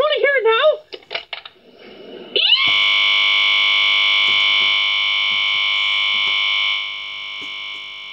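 A sustained electronic beep tone, loud and steady for about four seconds before fading lower, following a stretch of lively speech and a short rising sweep.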